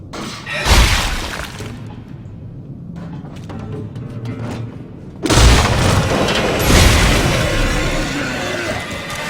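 In the sci-fi horror game Dead Space 2, a line gun fires with heavy booming, shattering blasts, one burst early and a louder, sustained volley later, amid crunching impacts and game ambience.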